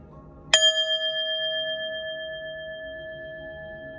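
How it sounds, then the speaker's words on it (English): A singing bowl struck once, giving a bright metallic strike followed by a pure, steady ringing tone that sustains and slowly fades, heard alone and up close. "I'm going to hit the singing bowl, clear your energy"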